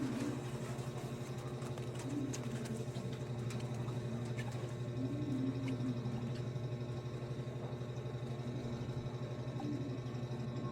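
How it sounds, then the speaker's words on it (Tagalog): A high-tech corn harvesting machine runs with a steady, continuous mechanical drone and hum at moderate level, unchanging throughout with no voices. "Kailangan na sa atin to high-tech na machine pang harvest ng mais."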